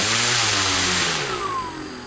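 A FlyBaby 1.4m EPO Taft Hobby foam model airplane's electric motor runs loud and close with a steady high whine, then winds down as it is switched off after a maiden flight in strong wind.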